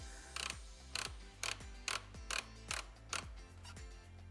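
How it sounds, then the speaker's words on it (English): A child seat mount handle on an eZee Sprint or Expedir Alfine Plus e-bike is turned clockwise to tighten, giving a steady series of about eight evenly spaced mechanical clicks over a faint grinding, close up with no talking. "rotating the handle clockwise tightens it up"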